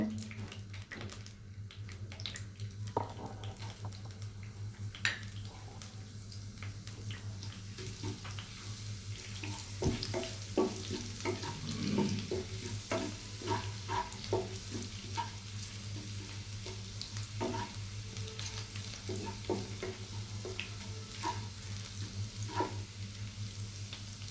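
Chopped onion, ginger and garlic frying in oil, a continuous crackling sizzle with scattered sharp pops and occasional stirring scrapes over a low hum, close and steady, no talk.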